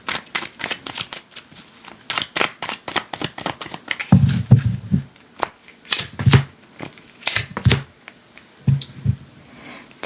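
Tarot cards are riffled and drawn during a reading, giving a run of quick crisp flicks and snaps with several softer thumps as cards are laid down, close up and with no talk.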